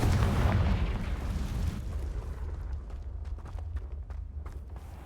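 A Confringo blasting curse explodes in the video game Hogwarts Legacy, with a loud, heavy boom that rumbles for about two seconds, then fades into quieter crackling debris.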